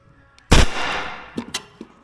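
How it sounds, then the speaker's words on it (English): A pneumatic nail gun drives a roofing nail into a wooden sawhorse: one sharp, loud, close bang with a hissing decay, then a few smaller knocks and clicks. "I shoot a nail in there. So, I didn't have enough pressure on there, so I triple tapped that with the nailer."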